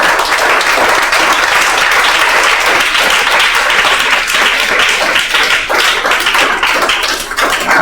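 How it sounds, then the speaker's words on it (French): A church congregation at a French-language worship gathering bursts into loud, sustained applause, dense clapping filling the space evenly for several seconds with no one speaking over it. "Acclame Jésus pour ça."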